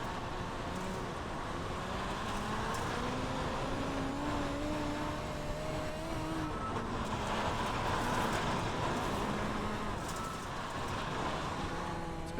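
Midget race car engine in the iRacing game at Lincoln Speedway, a steady droning whine with rising and falling pitch sweeps as the car laps the track, loud and continuous with no voices.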